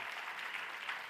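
An audience at a quiz contest claps for a team, a short, dense, even burst of applause at moderate distance.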